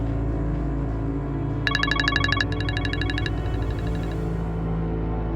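Telephone ringing as a call is placed, two bright bursts of electronic ring tone in quick succession over a low steady background hum, with no talk.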